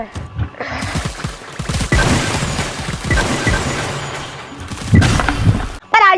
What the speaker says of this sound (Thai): มันยิงมาใส่ฉันรัว ๆ